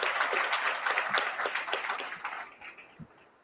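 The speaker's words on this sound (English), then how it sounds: "Let's give that sister a round of applause for her great work." An audience claps for civil rights attorney Natalie Jackson during a live discussion. A burst of close, brisk applause fades steadily to a few scattered claps within a few seconds.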